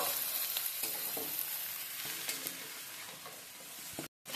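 Fish heads sizzle loudly in hot oil in a pan as they are sautéed for moong dal, with a steady, close frying hiss, scraping stirs, and a brief cut to silence near the end.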